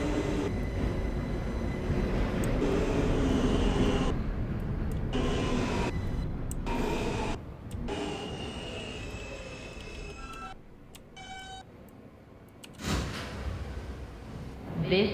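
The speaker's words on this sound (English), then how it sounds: "This is a Manhattan-bound D local train." A Manhattan-bound New York subway D local train, simulated in a rail game, gives a steady rolling rumble with brief breaks. The rumble fades quieter toward the end, then swells again.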